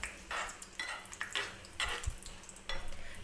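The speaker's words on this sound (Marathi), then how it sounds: "तर हे चमच्याने मी थोडंसं असं हलवून घेते बघा" A spoon stirring tadka spices and chillies in hot oil for dal khichdi, with the gas turned off: repeated close scraping strokes against the pan over a soft, steady sizzle.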